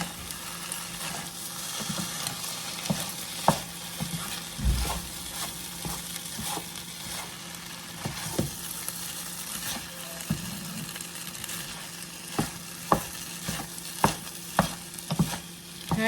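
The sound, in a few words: pork stir-frying in a pan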